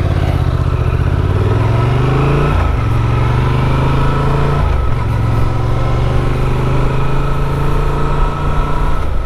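Honda Transalp motorcycle engine running loud and close, a steady idling rumble with two brief blips of the throttle.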